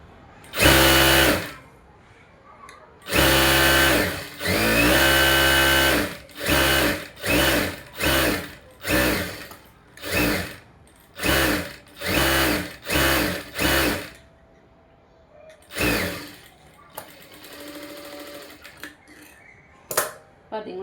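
A sewing machine stitches a blouse seam in repeated bursts, long runs first and then a quick series of short stitching spurts separated by pauses, close and clear.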